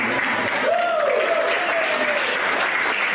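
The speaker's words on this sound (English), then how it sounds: "Statistically, too many of you are applauding" A comedy club audience applauds steadily for several seconds, a dense, even wash of clapping with a brief voice rising faintly above it.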